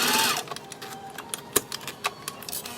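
A sewing machine bastes a zipper onto a fabric wristlet at an eighth-inch seam, a fast mechanical stitching whir with light ticking pulses, fairly quiet and close, with no talk.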